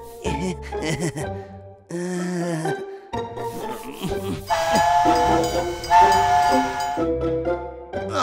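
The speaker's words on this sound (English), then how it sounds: "I want to ride the train, too." A cartoon train running in a children's nursery-rhyme animation, with whistle-like tones, hisses and chugging bursts mixed with music, loud and busy throughout.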